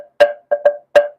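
Wooden bones tapped four times close up, one then a quick pair then one more, each leaving a brief ringing, pitched wooden tone.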